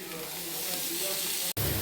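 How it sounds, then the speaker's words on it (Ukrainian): Food fries in a pan during festive holiday cooking, a close, steady sizzle and hiss that briefly cuts out near the end. "Я ще смажу."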